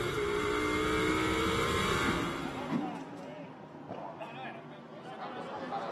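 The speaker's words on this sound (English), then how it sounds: "Let's just listen to the rumble as he accelerates away." A Lamborghini Super Trofeo race car accelerates away from turn eight at Misano, its loud engine rumble dominating before fading into distant background noise and faint crowd murmur.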